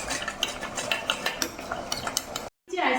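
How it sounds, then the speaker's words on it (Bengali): A spoon stirs strawberry candies with a little water in a pan, producing close, repeated scraping and clinking strokes in an uneven rhythm that break off briefly near the end before resuming. "এবার একটা চামচের সাহায্যে একভাবে নাড়তে হবে"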